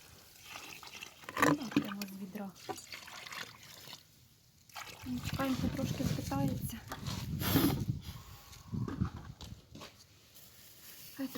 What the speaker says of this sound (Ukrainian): Наливаю сюди водички побільше,